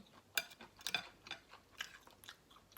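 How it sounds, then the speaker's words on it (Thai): Close, quiet crunching bites and chewing of fried squid with holy basil, with sharp crisp crackles repeating at an irregular pace. "กรอบแท้จ้าเสียงกรุบกรุบกรุบเลย"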